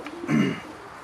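A pigeon in a loft gives one short, close coo that swells and fades in about a second.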